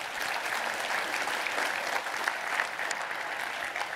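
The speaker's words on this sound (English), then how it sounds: "So round of applause for those folks, please." A conference keynote audience gives sustained, even applause that fills a large hall, a dense wash of many hands clapping at moderate distance with no talk over it.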